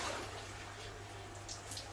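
Water draining and splashing from a wet koi net, a steady hissing trickle with soft splashes, moderately faint and continuous over low background noise.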